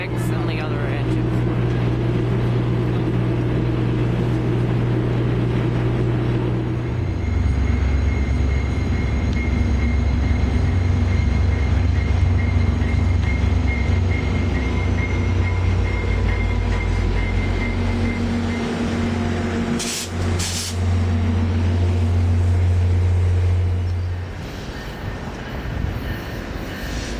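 Several railway locomotives in a multi-engine consist rumble past at close range with heavy, sustained low diesel drone and shifting engine tones, a brief clank partway through, fading slightly near the end; no talk.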